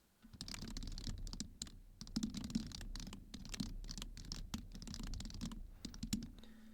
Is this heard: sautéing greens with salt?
no